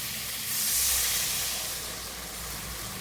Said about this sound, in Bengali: এবার আমি জল দিয়ে এই যে ফুটতে শুরু করেছে